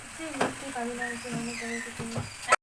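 Spiced curry with turmeric cooking down in a pan after a little water is added gives a close, steady sizzle with stirring scrapes, a couple of sharp clinks and a faint tonal hum underneath.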